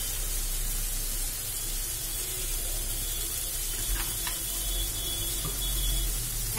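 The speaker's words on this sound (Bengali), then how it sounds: "এইভাবে কিছুক্ষণ আমি কষবো।" Spicy tomato masala for egg curry is sautéed in a pan, a steady close hiss and sizzle throughout with a few faint clinks.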